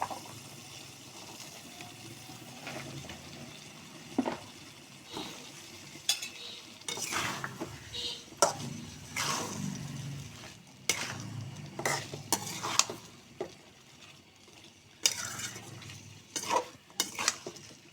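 Potatoes being stirred into a spiced curry base in a pan, with scraping spoon strokes and clinks over a low, steady sizzle, loud in bursts and quieter between.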